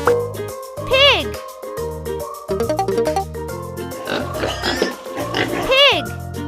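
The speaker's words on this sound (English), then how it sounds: "Pig." A pig grunts and squeals in quick bursts over upbeat children's music, with a couple of sharper high squeals standing out.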